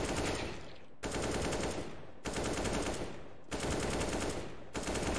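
Automatic gunfire in the video game CS:GO: four sustained bursts of rapid shots, each lasting about a second, separated by brief pauses, loud and close with no talking.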